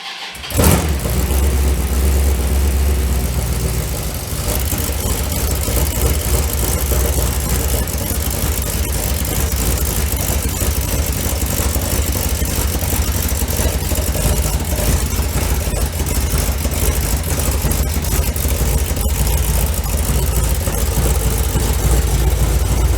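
A 1984 Dodge Ram D150 pickup engine with an exhaust leak idles steadily for the whole stretch, a deep rumbling drone with a raspy, puffing exhaust edge after a brief start-up at the beginning.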